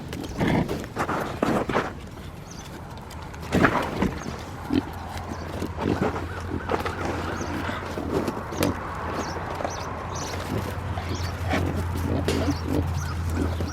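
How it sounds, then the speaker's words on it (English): Pigs eating tacos noisily nearby, with grunting, chomping and snuffling sounds over a steady low background hum. "So let's see if these pigs like some tacos"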